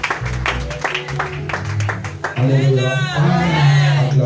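Church congregation clapping and cheering in praise of Jesus, a dense wash of applause with a few whoops, while a loud voice sings or calls out over the crowd in the second half.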